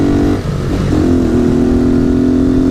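Honda Titan 150 motorcycle fitted with a Gemoto exhaust, idling and revving loudly up close with a steady throaty drone and a brief dip in the engine note early on.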